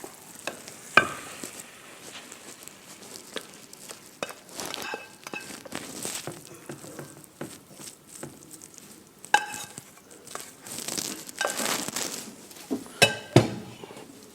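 Radish halwa cooking in ghee in a non-stick pan: a spoon scrapes and stirs steadily with soft sizzling, scattered clinks against the pan and a few louder knocks, with no talking.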